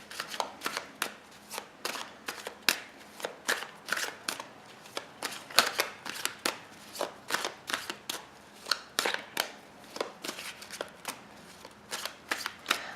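A deck of tarot cards is shuffled by hand in a string of crisp, rhythmic riffling bursts, close and fairly quiet, repeating steadily with short pauses between each shuffle and no voices.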